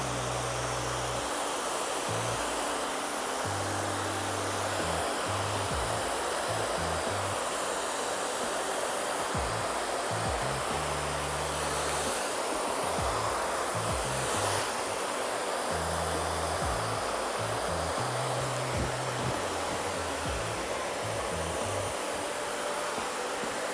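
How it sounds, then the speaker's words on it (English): Hair dryer fitted with a diffuser, set to high heat and low speed, blows steadily on hair during a mid-length haircut, a constant close airy roar lasting the whole stretch with no talking. "And I'm gonna use my diffuser, okay?"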